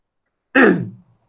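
A single short cough, close and fairly loud, trailing off quickly into silence.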